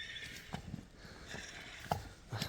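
A mare and her foal walk on firm ground, hooves clopping in a loose uneven rhythm, with a short whinny cutting through partway and steady background noise throughout.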